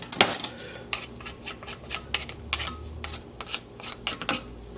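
Metal whisk clinks and scrapes against a pot while sauce is cleared off it before milk is added for a mac and cheese sauce, giving a dozen or so sharp close taps and scrapes with no voices.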